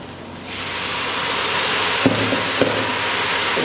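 White wine vinegar hits a hot pan while deglazing for German lentil soup, producing a sudden broad hiss that rises and then holds steady, with a couple of faint clicks.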